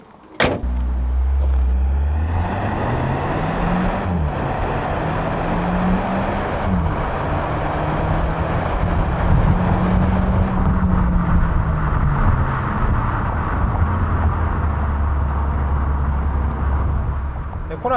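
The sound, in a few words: Hyundai Kona 1.6 gasoline turbo SUV driving and accelerating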